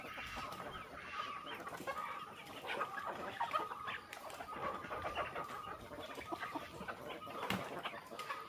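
A flock of hens clucks busily while pecking at calcium feed, with overlapping soft and sharper calls scattered throughout. The calls come at a steady, fairly quiet level with no talking.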